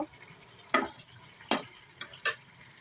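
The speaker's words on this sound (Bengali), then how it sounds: "এখন টমেটোগুলো একটু কষিয়ে নিয়ে ঝোল দিয়ে দিব" Tomatoes being fried with onions in a pan for a fish curry, giving a few soft scraping and stirring clicks over a quiet low sizzle, with no talking.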